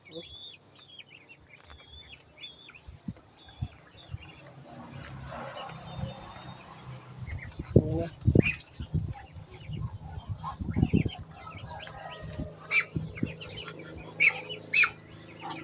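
High thin peeps from young chicks, kept alongside ducklings, repeat through the clip, joined by low clucking and scattered thumps and rustles, with someone talking in Tagalog over parts of it.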